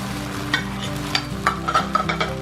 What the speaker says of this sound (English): we're gonna go ahead and throw that egg on there